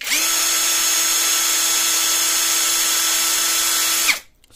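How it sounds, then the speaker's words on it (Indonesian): A cordless MLHY 20V drill, fitted with a replacement ESC module taken from an impact wrench, spins at speed setting 2 around 1000 rpm, a loud steady motor whine held for about four seconds before it cuts off abruptly. "Speed 2-nya"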